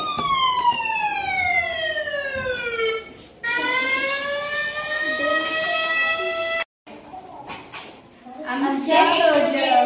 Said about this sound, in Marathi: तर आपले वाहन रस्त्याच्या कडेला आल्यास तिथे लाईट लागेल व सायरन पण वाजेल